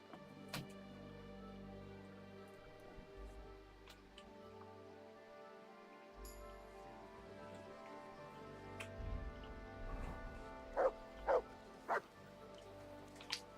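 A dog in the video game Kingdom Come: Deliverance II gives a few faint yips and barks near the end over a quiet ambient background.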